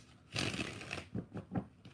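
Tarot cards riffle and slap together in a short, close shuffle, with one longer burst followed by a few quick, softer flicks.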